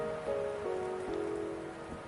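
Steady rain falling in the video game Wuthering Waves, a constant soft hiss with a faint musical tone layered beneath.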